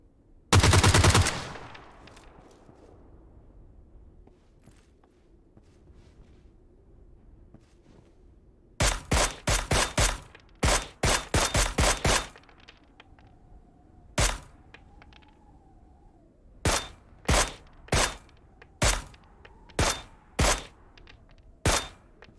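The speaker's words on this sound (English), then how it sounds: "Shouldn't have shot him with the loud gun first." Gunfire in PUBG on the Vikendi map, an opening loud blast followed by rapid bursts of close sharp shots and then a steady series of single spaced shots, ringing out over a quiet background.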